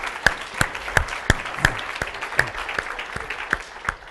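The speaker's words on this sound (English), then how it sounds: "Give Dylan a round of applause, you guys." A few seminar attendees clap sparsely after a presentation, giving sharp, spaced-out individual hand claps over about four seconds with no talking.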